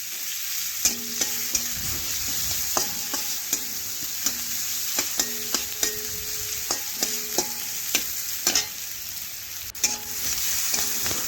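Chopped onions frying in oil with a constant bright sizzle, punctuated by regular scraping and clinking of a spatula stirring through the pan, close and fairly loud with no talking.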